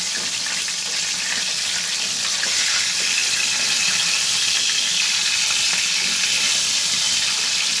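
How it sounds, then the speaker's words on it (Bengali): Fish frying in a pan for a home fish curry, a loud steady hiss that continues unbroken throughout, with no talk. "এগুলো একটু ভালো করে ভেজে নিয়ে পরবর্তী মাছগুলো আবার দিয়ে দেবো।"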